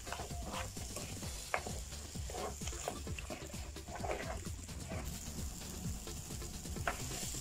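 Mutton kurma masala with ginger and garlic sautéing in oil, a soft, constant sizzle broken by faint scraping stirs of a spoon in the pan, fairly quiet, with no voices.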